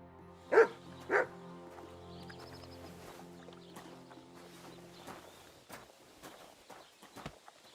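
Two sharp dog barks ring out near the start in Kingdom Come: Deliverance II, followed by quieter footsteps and faint ambient shuffling in a medieval village setting.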